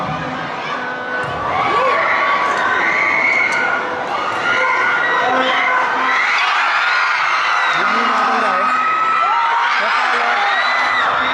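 A packed crowd at a match cheers and whoops loudly and without a break, shrill voices rising and falling across the whole stretch while a commentator talks over the noise.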